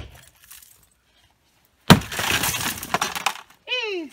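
A sharp crash of glass shattering, followed by a second of scattering shards, then a short voice exclamation.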